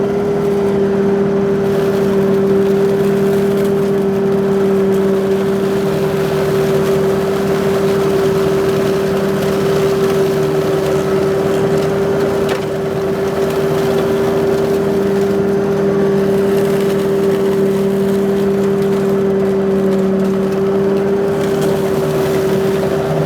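A Walker T27i mower engine runs steadily for the whole stretch, a loud, constant drone with a strong, even hum and no talk over it.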